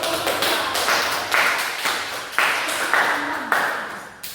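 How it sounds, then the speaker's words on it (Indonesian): Classmates in a microteaching lesson clap after a group presentation: a small group's clapping comes in several quick, rhythmic bursts, each swelling and fading, fairly close and loud. "boleh cepat berikan tepuk tangan"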